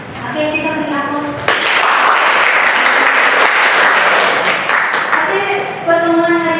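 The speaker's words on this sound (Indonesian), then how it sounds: "kita beri aplaus" Applause from a seated audience at the close of a university teaching session, a broad wash of clapping for about four seconds that tapers off, with voices talking before and after.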